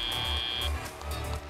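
An end-of-match buzzer at a 2022 FIRST robotics PNW district event in the SunDome arena gives one loud, sustained electronic tone of about 0.7 seconds, then cuts off, leaving crowd and arena noise underneath.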